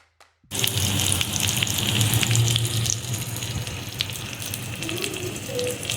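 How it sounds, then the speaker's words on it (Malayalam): Fish fillets for Goan rava fish fry drop into hot oil, which bursts into a loud, close, steady sizzle after a brief quiet moment and keeps crackling evenly throughout. "ചൂടായിട്ടുള്ള ഓയിലിലേക്ക് ഈ ഫിഷിനൊക്കെ വെച്ച് കൊടുക്കാം കേട്ടോ"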